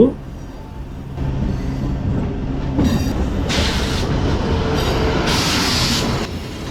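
Narasapur MEMU Express 17269 at Vijayawada Junction rumbles close by in a steady, loud roar, with bursts of hissing wheel and brake noise rising and falling over the track clatter.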